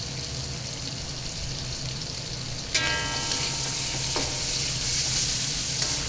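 Chow mein noodles stir-fried over a flame give a continuous loud, hissing sizzle with a couple of sharp spatula clinks against the pan, close up and with no voices.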